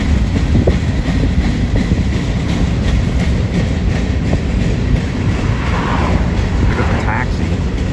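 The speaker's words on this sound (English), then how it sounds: "The train's barely going." A train rolls slowly along its rails with a continuous loud rumble and faint rhythmic clicking, while a person talks over it.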